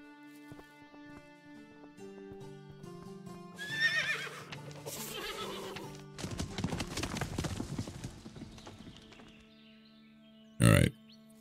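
In the video game Above Snakes, a horse's hooves clip-clop in a steady rhythm over soft game music, followed by a clear neigh midway and a sharp loud thump near the end.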